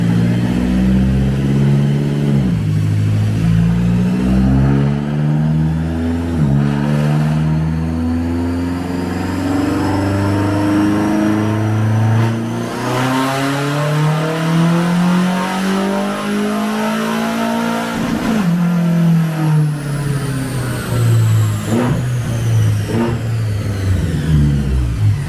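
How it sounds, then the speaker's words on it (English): A BMW X6M engine revving hard on an all-wheel drive dyno, loud and close, climbing repeatedly through the gears with rising pitch and brief drops at each shift. "put on that all-wheel drive dyno and see if she can beat the last horsepower figure I made"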